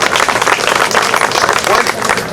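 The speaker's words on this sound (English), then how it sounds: "He deserves a nice round of applause." Outdoor applause from a small group on a historic walking tour at City Hall, brief loud clapping with voices mixed in.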